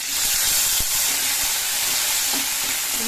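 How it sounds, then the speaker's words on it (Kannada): Potatoes frying in a pan for veg kolhapuri, a steady close broadband sizzle and hiss with a few soft stirring knocks, no voices. "ನಾನು ಬೇರೆ ಫ್ರೈ ಮಾಡ್ಕೊತಾ ಇದ್ದೀನಿ ನೋಡಿ"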